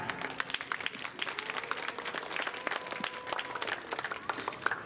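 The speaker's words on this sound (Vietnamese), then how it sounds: "Cho tràng vỗ tay ngành thanh nè." Applause from an audience at a Buddhist youth association anniversary performance, fairly faint but continuous clapping throughout, with faint background voices.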